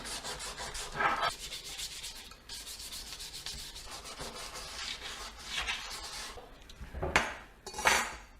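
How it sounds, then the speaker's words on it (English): Hand sanding of a wire-brushed Harley Ultra Classic motorcycle part with 320 sandpaper gives close, steady rasping strokes, with a few louder scrubbing bursts near the end and no talking. "Just gonna use some 320 sandpaper and go over this piece that I wire brushed."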